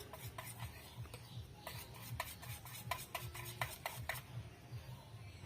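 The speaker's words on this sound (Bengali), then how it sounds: "এক বাটি ময়দা দিয়ে মিশ্রণটা আমি খুব ভালো করে মিশিয়ে নিয়েছি" A utensil stirs flour batter in a bowl for a jackfruit recipe, steady rhythmic scraping strokes, faint and close, with no talking.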